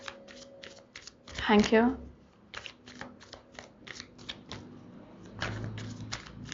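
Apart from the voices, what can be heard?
tarot cards being shuffled and drawn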